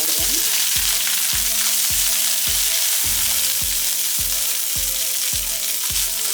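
Dried chillies and curry leaves sauté in oil for a kale fry, a loud dense sizzle filling the whole stretch while a regular rhythmic thumping repeats roughly every half second underneath.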